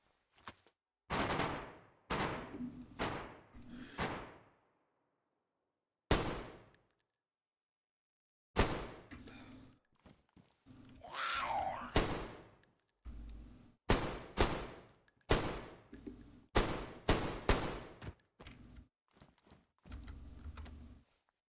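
Gunfire in the video game DayZ, set in a lab: bursts of sharp shots in rapid clusters, some isolated single cracks and longer rattling volleys, loud and close, with short silent gaps between.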